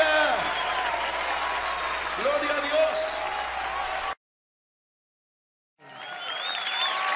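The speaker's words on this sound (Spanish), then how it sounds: "¡Fuerte el aplauso!" A worship congregation claps and cheers in sustained applause while a voice shouts over it; the sound cuts to silence briefly, then the clapping and voices resume.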